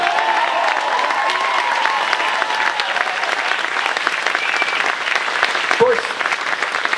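Loud, sustained applause from a caucus crowd at a Ron Paul speech in Seattle fills the scene, dense and continuous for the whole stretch with no break in the clapping.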